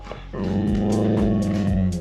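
A dog growls low and continuously at a robot pet cat, a deep rumbling snarl with a few sharp yelping bursts, close and loud throughout.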